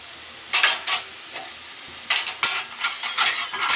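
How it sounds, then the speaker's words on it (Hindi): Potatoes and onions frying in a pan at home, with bursts of sizzling and the scrape and clink of a utensil stirring against the pan, coming in short irregular clusters close up. "यहाँ हो रही है आलू की प्याज फ्राई"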